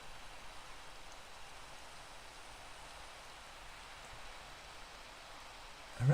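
Steady rain falls in a video game, an even, close hiss of drops that holds unchanged throughout with no voices.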